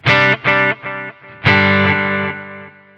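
Overdriven electric guitar through a Zoom MS-50G multi-effects pedal on a booster setting: a few short chopped chords followed by a big sustained chord that rings out and slowly decays, gritty and distorted.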